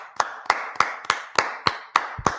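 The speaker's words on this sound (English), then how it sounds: "Clap it up for the Lord." Eight evenly spaced, crisp hand claps in a steady beat during a religious brotherhood class gathering, with no talking over them.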